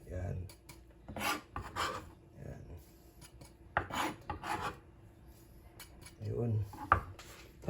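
Fish kinilaw with mango mixed in a bowl by hand: intermittent scraping, rubbing and light clinks of a utensil against the bowl, repeated in uneven bursts at close range.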